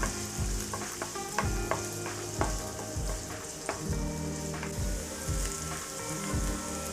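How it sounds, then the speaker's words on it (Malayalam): Ginger, garlic and green chilli sautéing in a pan, a steady close sizzle with repeated scraping stirs from a spoon at an uneven rhythm. "ഇഞ്ചി, വെളുത്തുള്ളി, പച്ചമുളക് ഇവയിട്ട് നല്ലോണം ഒന്ന് വഴറ്റിയെടുക്കുക"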